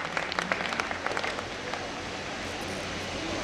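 An audience at a mushaira and kavi sammelan claps to welcome the first poet, a burst of crisp clapping that quickly settles into a softer, even wash of applause.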